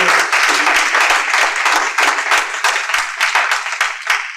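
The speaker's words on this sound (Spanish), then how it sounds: "fuerte aplauso al Señor, hermano." Church congregation clapping for the Lord in a loud, quick, steady stream of many hands that carries through to the end.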